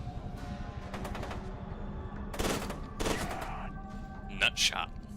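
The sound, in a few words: Burst-fire gunshots in video game Fear 2: Project Origin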